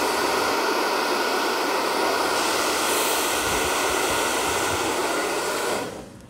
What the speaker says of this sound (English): you can blow dry your hair to straighten it more